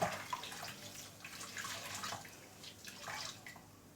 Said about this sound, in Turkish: Şöyle bezimi ıslatayım.